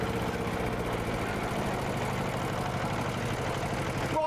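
The engine of a Lawrie Special car runs on rollers as a steady, rumbling drone that stays constant and loud throughout, close by and with no talking.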